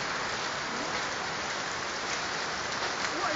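Hail pelting down steadily during a hailstorm in the Philippines, a dense continuous hiss of small icy impacts that stays even and unbroken throughout, with no talking.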